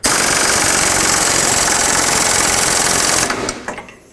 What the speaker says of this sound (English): Just going to make it nice and snug with the air gun.